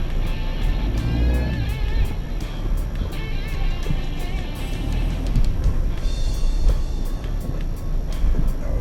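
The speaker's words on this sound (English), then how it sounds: "All those videos you've seen of cars splashing through water" A car wades slowly through a river at steady throttle, with a continuous engine drone and rushing, splashing water close by, plus scattered clicks and knocks.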